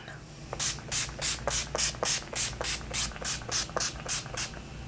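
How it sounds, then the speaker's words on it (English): A rapid series of about thirteen short, evenly spaced pumps of a face mist spray, close and crisp, hissing one after another over a low background hum. "let me spray my face down"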